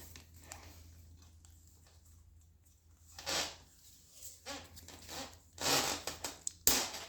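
Electrical tape pulled off the roll while fitting a fender to a springer front end, quiet handling rustle broken by several short ripping pulls and crackles near the end.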